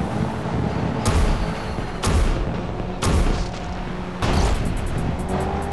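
Race car engines roar in the video game Blur, punctuated by heavy booming impacts roughly once a second over a continuous loud mechanical wash.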